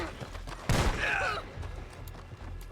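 A burst of gunfire erupts as a loud crack with a rapid volley, followed by scattered fainter shots and background noise while people talk.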